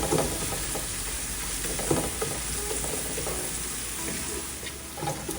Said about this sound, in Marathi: Onions should cook until brown.